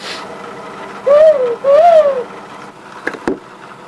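Two smooth, hooting whistle notes from a handheld bird call imitate a dove or owl, close and clear, followed by a couple of soft clicks.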